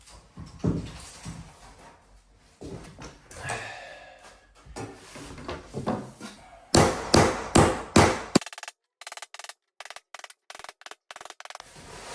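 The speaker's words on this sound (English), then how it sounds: "Time for a bit more hammer and nail action." Sharp hammer blows striking nails, first irregular and softer, then a loud run of evenly spaced strikes close by.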